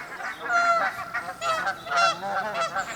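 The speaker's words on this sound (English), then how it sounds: "It doesn't look like these geese are going anywhere." Several geese honk repeatedly by a lake, their harsh calls overlapping in irregular bursts at moderate distance, with no talking.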